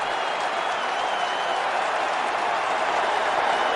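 Stadium crowd at an NFL divisional playoff game, Packers at Falcons, a steady, dense roar of cheering and noise without a break.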